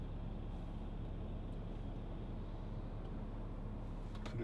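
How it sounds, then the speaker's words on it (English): Steady road traffic rumble heard from inside a 2012 Volkswagen Touareg 3.0 TDI V6 on a country road, a continuous low roar of passing cars and trucks with faint higher swishes, no talking. "Lots of traffic."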